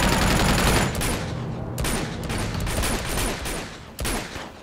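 Gunfire in the video game Uncharted 2, a dense rolling fusillade of rapid shots with short gaps and a few sharper bursts, fairly loud and continuous.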